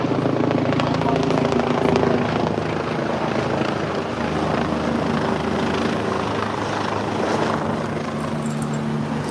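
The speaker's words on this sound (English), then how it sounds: "there are helicopters, at least one helicopter circling overhead" A helicopter circles overhead above Istiklal Avenue in Istanbul after an explosion, its rotor chop a steady thudding drone that stays fairly loud and constant for the whole stretch, with street noise mixed in.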